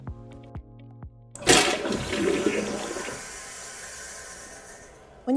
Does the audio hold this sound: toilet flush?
yes